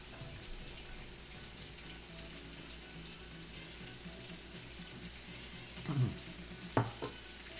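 Asparagus searing in a hot skillet for braising, giving a steady low sizzle and crackle throughout, with a couple of louder clatters of pan or utensil near the end.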